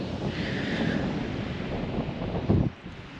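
Ocean waves and wind on a rocky, seaweed-strewn Kenai Peninsula beach in Alaska, with a steady roar of surf and wind buffeting the microphone and a brief louder gust or wave near the end.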